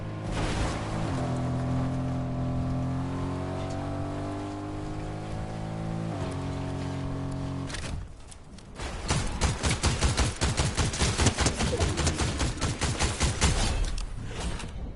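Gunfire in Fortnite: after a sustained tonal stretch, a dense run of rapid, loud, evenly spaced shots takes over the second half and continues to the end.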